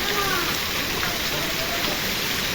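Heavy downpour roars steadily and loudly throughout, a dense continuous hiss of rain with no gaps.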